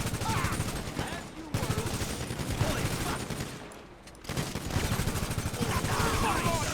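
GTA 5 gunfire rings out in rapid bursts of automatic shots across a firefight, loud and dense, with one short lull, while a voice talks over the action.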